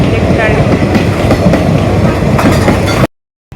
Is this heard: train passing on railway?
yes